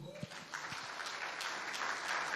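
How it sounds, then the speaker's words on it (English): An audience applauds at the opening ceremony of a Nigerian Institution of Agricultural Engineers conference in Ilorin, giving steady, dense clapping that carries through the whole moment. "A round of applause for them."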